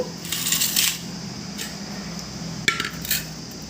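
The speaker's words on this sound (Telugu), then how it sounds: "ఇప్పుడు ఒక గిన్నె తీసుకుందాము" A kitchen bowl is picked up and set down, giving a few sharp metallic clinks near the start and again later, close and fairly loud amid quiet room tone.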